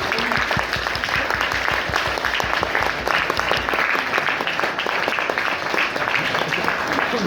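An audience at a lecture gives sustained applause, a dense, steady wash of clapping that carries on at even loudness for the full seven seconds.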